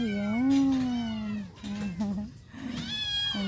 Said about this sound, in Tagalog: tingnan mo guys, maraming anak ng pusa